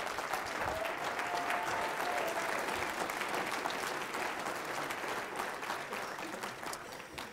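A conference audience at a business seminar breaks into steady, even applause that carries on for about seven seconds, moderately loud and unbroken, fading slightly toward the end.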